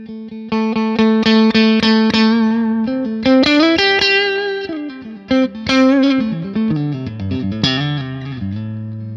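A clean-toned electric guitar played through a PRS Sonzera 50 combo amp, with picked chords and single notes, steady and fairly loud, ringing with some shimmer.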